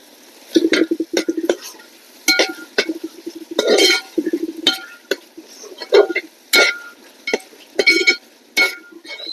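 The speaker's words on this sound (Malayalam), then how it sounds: "നമ്മുടെ വീട്ടിൽ പൊടിച്ചെടുത്തിട്ടുള്ള പെപ്പർ ഇത് കുറച്ചും കൂടി ഒന്ന് ചേർത്ത് ഒന്ന് ഇളക്കാം" A spoon stirs beef heart curry in a pot after ground pepper goes in, making intermittent scraping and clinking strokes in irregular bursts, close and fairly loud.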